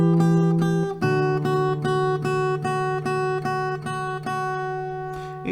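Acoustic guitar playing a riff: a sustained low strummed chord, then steady rhythmic repeated strums of ringing chords, close and loud, with no voice.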